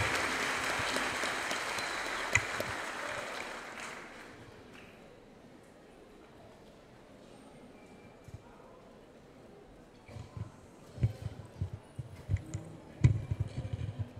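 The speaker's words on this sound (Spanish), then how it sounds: "Un aplauso para el señor que nos ha apoyado en los proyectos" An audience at a graduation ceremony applauds, a bright wash of clapping that fades after a few seconds, then scattered thumps and quieter room sounds follow.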